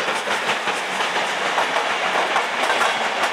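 A Taurus electric locomotive hauls a train past Kelenföld station in Budapest, its steady rolling roar with a rhythmic clickety-clack of wheels over rail joints, loud and close throughout.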